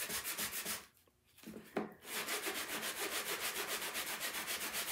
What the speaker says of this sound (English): we're gonna take this sanding block and sand this down